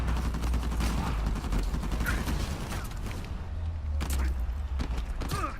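Blind-fire gunshots in Uncharted 4 multiplayer ring out as a steady run of clicking, rattling shots over a constant low rumble, fairly quiet and mechanical in texture.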